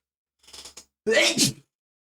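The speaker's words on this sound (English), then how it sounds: "I don't know why this random sneeze just comes out once in a while." A short sharp intake of breath, then a single loud, explosive sneeze close up, followed by silence.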